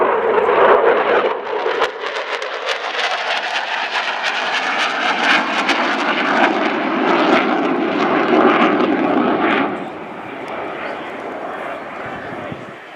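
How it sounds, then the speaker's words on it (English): A Belgian Air Component F-16 fighter jet in a flying display at RIAT 2013, a loud sustained jet roar in full afterburner passing near, then fading slightly toward the end. "see some fast jets going nice and high and nice and loud in full burn"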